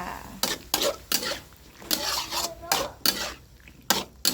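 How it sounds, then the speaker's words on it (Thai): Gourd and fresh shrimp are stir-fried in a pan, with repeated scraping and clattering strokes of a spatula against the metal in an uneven rhythm over a soft sizzle, close and fairly loud. "ผัดแตงกุ้งสดจ้า ใส่ลงไปก่อนเลย จากนั้นก็นี่จ้าผัดไปก่อนจ้า"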